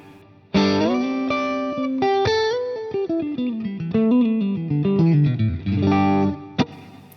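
A Stratocaster through a Fractal FM3 with Ice Castle reverb plays a loud, clear melodic phrase of picked single notes and chords, each ringing into a soft reverb tail, with a brief sharp accent near the end and no voices.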